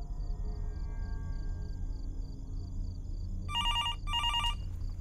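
A telephone in the horror game Fears to Fathom: Norwood Hitchhike rings twice in quick bursts of electronic trilling, following a low steady ambient hum.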